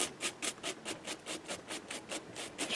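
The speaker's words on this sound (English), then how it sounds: "What I'm going to do is get that filler out of the The grooves." An old toothbrush scrubs filler out of the grooves of a persimmon golf club head in steady back-and-forth strokes, a rhythmic close rasping with no talk.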